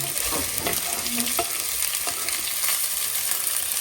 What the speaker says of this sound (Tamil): எண்ணெய் காஞ்சது இதுல வெட்டி வச்சிருக்க ஆனியன் சேர்த்துக்கலாம்.